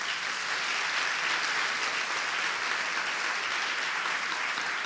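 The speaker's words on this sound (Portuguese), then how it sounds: "Pode aplaudir" Church congregation applauding during a sermon, a uniform, continuous wash of many hands clapping, moderately distant and steady from start to finish, with no voices on top.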